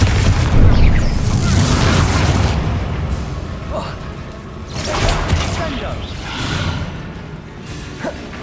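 A Confringo blasting spell explodes in Hogwarts Legacy: heavy booming bursts with whooshing rushes, loudest near the start and again midway, over dense game sound and voices.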